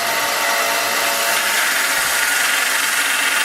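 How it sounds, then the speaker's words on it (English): A belt sander grinds a forged steel blade, a loud, steady, harsh abrasive whine close up that holds throughout and stops abruptly at the end. "Now on my sander, I have to pull this metal down a lot."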